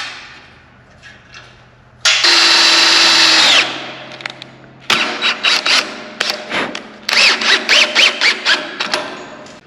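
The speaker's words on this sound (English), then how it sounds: "then I ran a self-tapper in there" Power drill driving a self-tapping screw into the steel bed of a 1930 diesel pickup build, a long loud whine followed by repeated sharp bursts and squealing pulses, close and alone.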